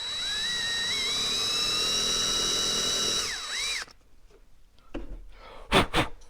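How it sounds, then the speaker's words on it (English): A steady, high-pitched power drill whirs for about three seconds boring a small hole in wood, its pitch dipping briefly, then cuts off, followed by a few scattered clicks and knocks. "Drill a little hole just so it doesn't split on us"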